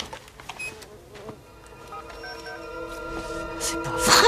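Disoriented bees buzz inside a house, a wavering drone of several insects that grows louder toward the end, close to the ear.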